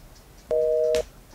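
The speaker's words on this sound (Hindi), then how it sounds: "फोन काट रही है, एक और बार ट्राई करता हूँ।" A single short phone tone, a steady electronic beep lasting about half a second, sounds as a call is cut off by the other person, clear and close with soft clicks around it.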